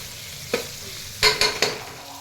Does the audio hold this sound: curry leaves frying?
yes